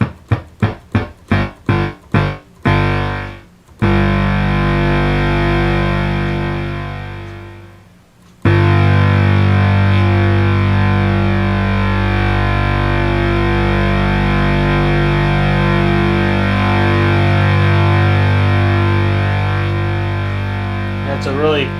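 Minimoog synthesizer holding a bright, buzzy note after a run of quick clicky plucks, the tone sustaining loud with slow filter decay and only gradual change over many seconds.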